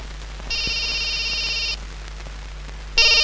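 A telephone rings in two bursts, a long electronic trill followed after a pause by the start of another, heard alone and close over faint background hiss with no talking.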